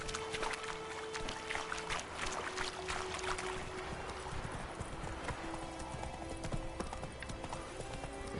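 Horse hooves trot in The Witcher 3, a steady, close clip-clop running the whole time over a constant bed of game ambience with no talking.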